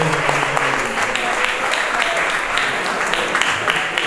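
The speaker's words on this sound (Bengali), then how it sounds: "জোরে হাততালি।" A crowd at a Salil Chowdhury centenary tribute event claps loudly and continuously, a dense, steady wash of applause with no pause.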